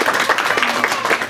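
Audience applauding panelists at a tabletop gaming with kids panel, a short burst of dense, fairly loud clapping from a room of people, with no talking.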